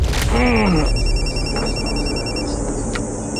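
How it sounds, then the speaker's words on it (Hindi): An electronic phone ringtone chimes in a repeating pattern, loud and close, with a brief rising tone near the start and some background noise. "अचानक तब हमारे क्लाइंट का मुझे कॉल आया"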